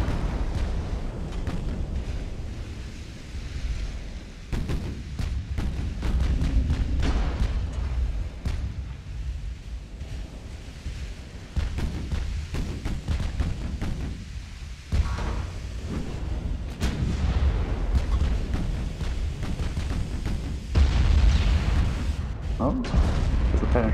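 Naval warship battle in a video game with 12-inch guns, a dense, continuous roar of booming gunfire and shell impacts. A voice talks over it throughout.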